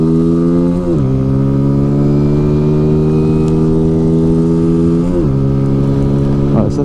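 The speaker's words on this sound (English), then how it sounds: "Let's try and get at least 60 miles an hour out of this bike." A Sinnis Apache SMR 125 motorcycle accelerates hard, its engine tone climbing steadily with two quick gear shifts that drop the pitch before it rises again, loud and close throughout.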